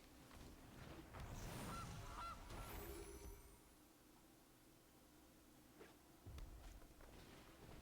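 A goose honk plays from the Gilded Goose card in the MTG Arena card game, a few quick honks over faint background noise, with no talking.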